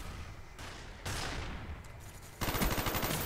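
Gunfire in the video game Call of Duty Black Ops: loud, sustained bursts of automatic weapon fire, growing denser and heavier near the end.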